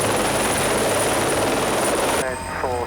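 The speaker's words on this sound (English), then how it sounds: "the unit has barely had time to refuel the second helicopter before they have to go again" A police helicopter roars steadily with a loud, continuous rotor and engine drone close by, and a voice briefly speaks over it near the end.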